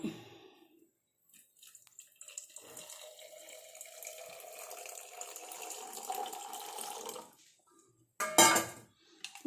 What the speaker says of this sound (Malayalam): വെള്ളം നമുക്ക് ഇനി ഒഴിച്ചു കൊടുക്കാം